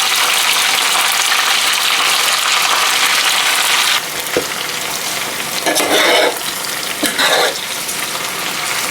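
A big pan of potatoes fries in oil with a loud, continuous sizzle that drops a little partway through, then two short bursts of stirring or bubbling rise over the hiss.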